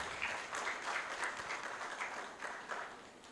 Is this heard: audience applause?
yes